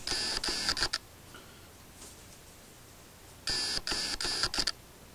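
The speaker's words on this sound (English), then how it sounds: "You could hear it, probably hear it, the motor over the mic as well." A Pentax K-70 camera's autofocus motor driving a DC 20-40mm lens, with two short bursts of faint, close buzzing and ticking separated by a quiet pause.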